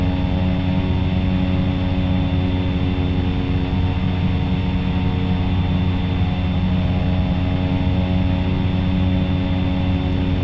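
A propeller airplane on landing approach drones inside the cabin, a steady, loud, unbroken engine and propeller hum with no talking.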